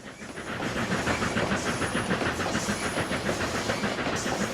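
Steam locomotive running on a Denver route in the TrainZ train simulator game, with a steady rhythmic chuffing and hiss, a faint repeating clickety-clack and a thin high whine, loud and continuous without talk.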